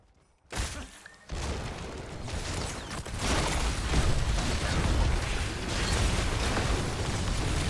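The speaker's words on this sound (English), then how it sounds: "That's a Diva Mecha Explosion." A D.Va mech explosion in the video game Heroes of the Storm: a sudden loud burst out of near silence, followed by sustained rumbling, crackling blast noise that stays loud and busy through the rest of the clip.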